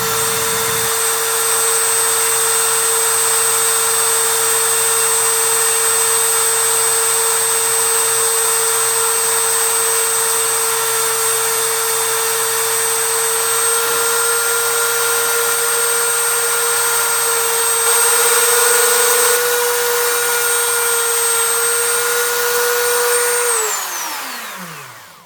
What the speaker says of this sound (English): we have to take a Dremel and kind of make a little neck right here and right here so that blade just sits in there smoothly